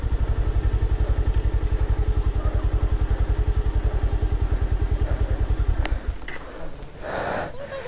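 A motorcycle engine idles close by with a steady, rapid putter for about six seconds, then cuts out into scattered clatter and rustling.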